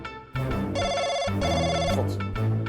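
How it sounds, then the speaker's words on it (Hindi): An electronic phone ringtone plays a repeating melodic pattern of bright tones, loud and close, ringing steadily for a few seconds. "फोन आ रहा है।"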